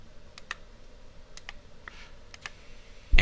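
Keys on a TI-84 graphing calculator keypad are pressed in a sparse sequence of crisp little clicks, some in quick pairs, heard close and alone before a louder knock at the end.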